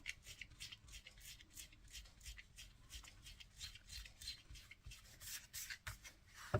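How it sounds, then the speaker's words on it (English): Glue rubber rubbed back and forth over a handmade card to lift away leftover glue, a soft, steady scuffing with rhythmic strokes, faint and close, no talking. "we're going to rub that out with my glue rubber"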